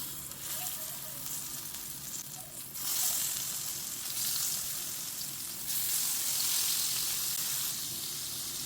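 Fish dusted with wheat flour frying in hot oil in a pan, a steady close crackling sizzle that swells louder as more pieces go in.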